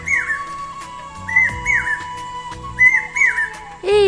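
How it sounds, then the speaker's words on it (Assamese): Asian koel calling outdoors during Bihu festivities, repeated rising whistled notes in pairs, moderately loud, over a continuous background drone and music-like tones, with no talk. "শুনিছেনে কুলিৰ মাত"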